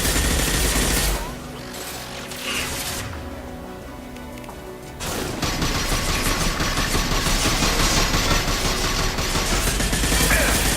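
Suppressing gunfire in the video game Mass Effect 2, heavy sustained bursts of automatic fire that drop away for a few seconds, then return as a dense, loud, continuous rattle.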